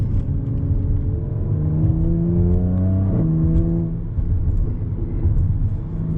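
A Jaguar F-Type's exhaust burbles and rumbles steadily while driving, rising and falling in pitch with a gear change partway through, heard close and continuous without talk.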